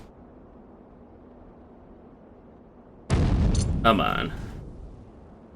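In the Delta Force Task Force Dagger shooter, a grenade explosion erupts as a sudden heavy boom after a quiet stretch and rumbles off over a second or two, with a voice speaking briefly during it.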